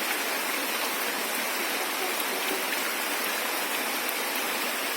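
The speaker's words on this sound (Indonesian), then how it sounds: "Kita serombongan lagi terjebak hujan di bawah pos 1 Cigowong." Steady rain falls in the forest on the Mount Ciremai hiking trail below the first post, making a dense, even hiss of drops with no pauses and no voices.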